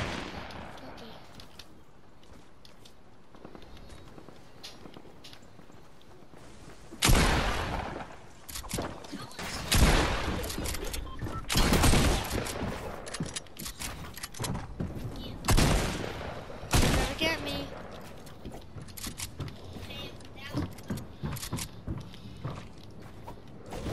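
Gunfire in a shooter video game with pump shotguns and pickaxes. After a quiet stretch come several loud bursts of shots and booms mixed with footsteps, while a player talks over the game.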